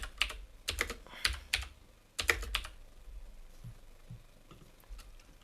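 Computer keyboard being typed on to enter code: quick clusters of crisp key clicks in bursts, followed by a few softer, sparser taps, close and alone.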